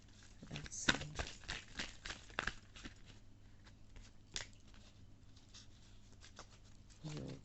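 Tarot cards being shuffled by hand during a card reading, giving soft papery riffles and slaps in irregular bursts, fairly quiet, with a few faint voice sounds in between.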